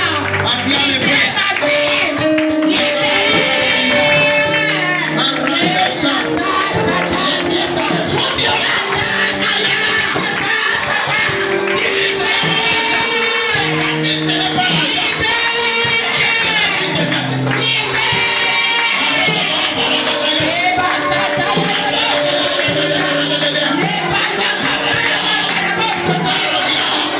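A church congregation acclaims and cheers loudly, a dense, continuous crowd roar with shouts and whoops that holds steady throughout, with voices rising over it.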